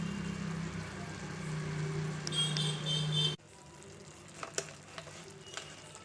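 Masala paste hits a hot pan of softened tomato and fries with a steady sizzle, then drops to quieter bubbling with a few clinks of a spoon stirring.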